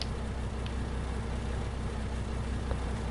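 Steady low rumble of a small truck's engine running in Farming Simulator 19, continuous and fairly loud throughout with no gaps.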